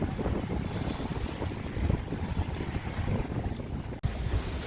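A sailboat moves at about five or six knots in a 12 to 13 knot breeze, with steady wind rush and water noise that stay constant and fairly quiet, plus one brief dip and a knock near the end.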